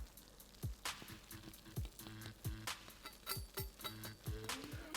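A vegetarian, low-FODMAP shepherd's pie with a crispy potato top, fresh from the oven, bubbles and pops with scattered close clinks and soft sizzling throughout.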